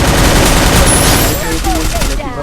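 Rapid automatic gunfire bursts in a competitive shooter game tournament ring out loud and close, dense volleys that thin out toward the end.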